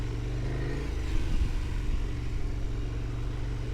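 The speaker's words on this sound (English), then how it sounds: "I'll just stay calm on the bike and let the bike find its way or its path through the sandy stuff." A motorcycle rides over a loose, sandy, slippery trail in Morocco on partly deflated tires, its engine a steady close rumble throughout with a slight surge near the middle and no talking.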